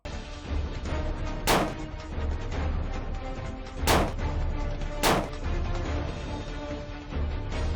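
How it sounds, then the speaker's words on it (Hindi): Three sharp, loud gunshots crack out at uneven intervals over a dense, steady rumble of background noise, during a deadly shooting at a family home in Khairpur. "गोलियां चलने की आवाजों ने बराबर में रहने वाली चची को भी इसी जानिब मुतवज्जो कर लिया।"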